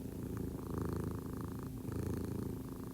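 A cat purrs close up in a steady, rhythmic rumble lasting about three seconds, fairly loud and alone.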